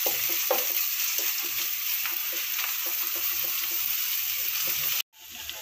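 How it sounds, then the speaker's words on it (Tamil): Ginger garlic paste sautéing in a pan for a chana masala gravy, a steady close sizzle with faint stirring scrapes, cutting off sharply near the end. "இஞ்சி பூண்டு வாசம் போகிற வரைக்கும் நல்லா வதக்கணும்."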